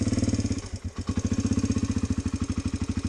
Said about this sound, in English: she's quite quiet on the tick over